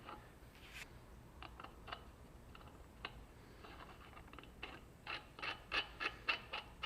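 A crank puller is screwed by hand into a square taper bicycle crank, giving faint, close metallic clicks and ratcheting ticks that grow denser and slightly louder toward the end.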